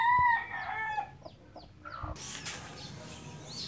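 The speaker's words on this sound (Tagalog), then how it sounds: "Sa likod ng bahay, may manok." A backyard gamecock clucks and squawks several times up close, followed by a burst of hissy noise as the calls fade.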